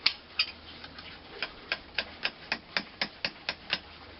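A hammer strikes a metal rose on an anvil in a run of light, sharp taps, about fifteen blows at a fairly steady pace, faint and fairly close with no voices.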